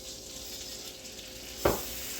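Flour cooks in a pan with fat for a Dijon gravy to go with pork schnitzel. A quiet, steady sizzle runs underneath, with one brief clink of a utensil near the end.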